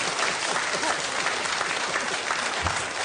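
Studio audience clapping for the losing team on a panel game show, a steady, even wash of applause throughout.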